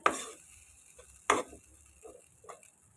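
Vegetarian dry sukiyaki stir-fried in a pan, with three distinct spatula scrapes and tosses against the pan over a faint, low sizzle. The sound is close and there is no talking.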